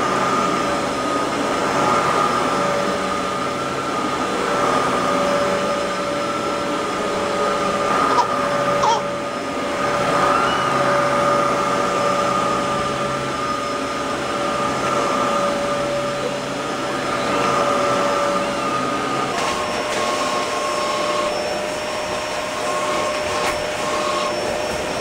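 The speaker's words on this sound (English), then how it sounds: "You love the vacuum." A household vacuum cleaner runs at a steady drone with a constant whine, close by and unbroken for the whole stretch, with a few small bumps as it is moved around.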